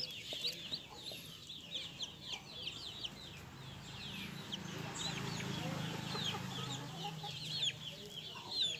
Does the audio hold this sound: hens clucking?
yes